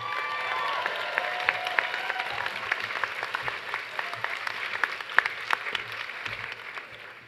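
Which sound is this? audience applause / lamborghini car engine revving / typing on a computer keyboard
audience applause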